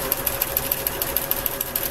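Basic sewing machine running a straight stitch over the edges of basted cross-stitch fabric, a close, fast, even mechanical whir with regular ticking pulses throughout and no voices.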